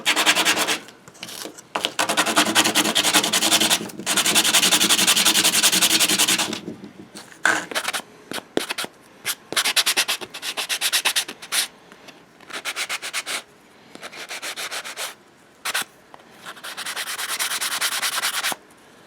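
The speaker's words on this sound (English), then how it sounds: "All of these rings, all of these collets and sleeves. Just give them a real quick sand." Small replica prop parts such as rings, collets and sleeves are sanded by hand, giving loud, close rasping scrubs: a long steady stretch at first, then quick separate strokes with short pauses, and a few longer passes at the end.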